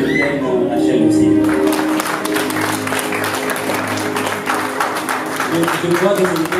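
An audience at a church youth-week gathering breaks into applause, steady broad clapping that swells after a brief lead-in, with a voice speaking over it.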